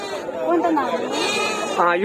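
Goats at a busy Kothagudem livestock market bleat in a loud, wavering cry close by, with crowd chatter and talk around them.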